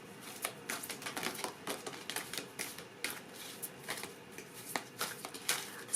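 Tarot cards are shuffled close by in a quiet room, giving rapid, uneven bursts of papery flicking and riffling that go on without pause.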